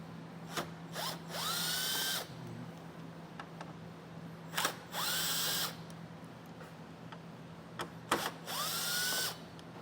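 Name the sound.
power tool removing T15 Torx screws from radiator core cover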